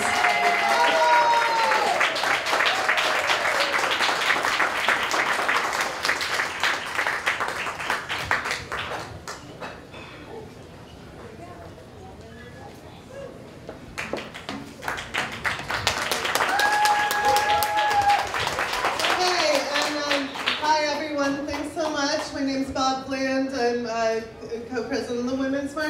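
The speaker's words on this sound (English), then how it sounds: "let's give her a big round of applause" A crowd at a celebration for a new Congress claps loudly, the sound fading into a lull before a second swell of applause and cheering returns under a voice.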